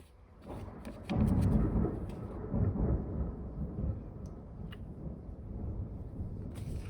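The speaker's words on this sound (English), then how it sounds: "the thunder is going crazy" Thunder rolls through a thunderstorm as a deep, rumbling boom that swells quickly and then fades into a long, low grumble with scattered crackles, loud and alone.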